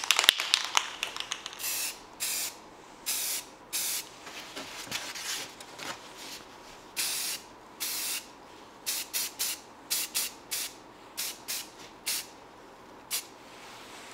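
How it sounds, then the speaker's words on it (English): An aerosol spray can hisses in repeated short bursts while coating model plane manifolds in a rusty brown, the bursts irregular and close, separated by brief pauses with faint handling noises. "This keeps them from blowing away when I'm hitting them with spray paint."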